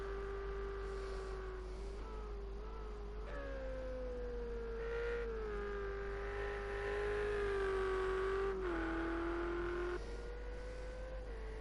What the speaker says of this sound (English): As we saw, that Porsche is incredibly quick.